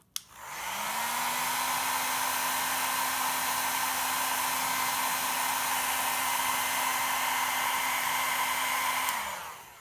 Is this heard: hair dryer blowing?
yes